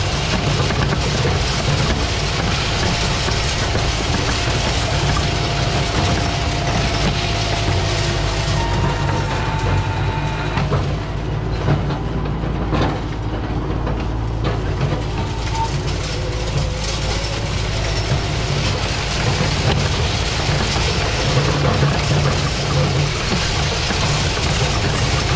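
Farm tractor engine running steadily during hay baling in hot, sunny weather, a loud continuous low mechanical drone that holds throughout with no pauses.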